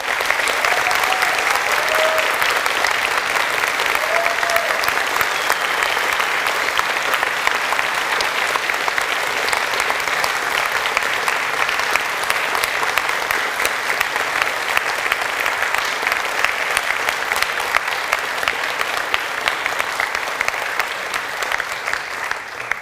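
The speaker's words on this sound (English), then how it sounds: "could we conclude the ceremony by you giving your supporters a round of applause" A graduation ceremony audience applauds their supporters at the close, a long, sustained wash of many hands clapping at a steady loud level for over twenty seconds.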